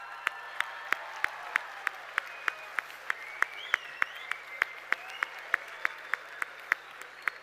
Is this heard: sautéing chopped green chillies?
no